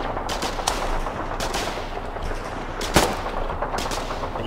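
Gunfire in the video game Foxhole during a spearhead assault: bursts of rapid rifle and machine-gun shots over a rumbling battle background, with one sharp, louder blast near the three-second mark.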